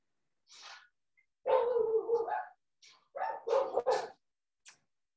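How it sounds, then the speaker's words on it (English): Guard dogs bark indoors during a clay pottery demonstration, with a few sharp, moderately close barks and yips in uneven bursts separated by short silences. "My trusty guard dogs."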